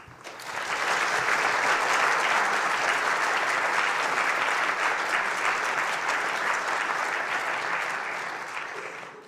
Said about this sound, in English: So could you please give a warm welcome for Paraic Kerrigan and Roland Phillips.